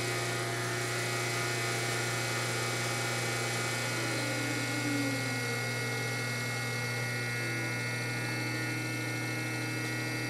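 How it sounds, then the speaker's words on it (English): An induction machine drive slows as its supply frequency is cut back to 30 Hz. A steady electrical hum and whine persist throughout, and fainter tones glide downward in pitch partway through. "we're going to reduce the frequency of the induction machine back to 30 Hertz and see the speed drop"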